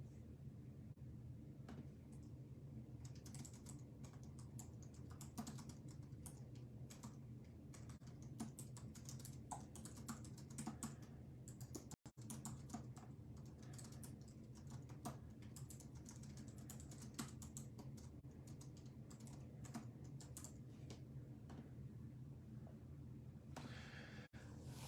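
Steady computer keyboard typing runs throughout, a continuous patter of keystrokes close by over a low background hum, with no talking.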